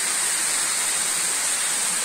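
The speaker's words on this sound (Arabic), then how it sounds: "إذن هذا هو الشلال، شلال عين تيبخباخين" The Tibkhbakhin spring waterfall near Ighzrane in Sefrou province, roughly 20 to 30 metres high, pours as a loud, constant hiss of rushing water with no pauses or voices.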